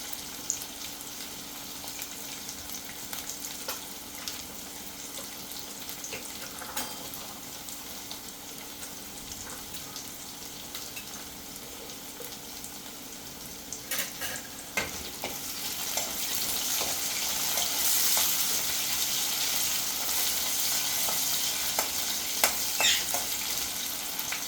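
Onions frying and being stirred in a pan for moong dal fry, a steady low sizzle with occasional scraping strokes, growing louder and brighter in the final stretch; no voices.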